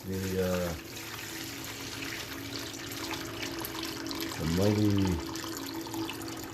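Water runs steadily into a red bucket at moderate level, a continuous gushing wash with a voice briefly audible at the start and again midway.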